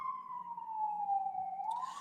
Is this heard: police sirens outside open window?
yes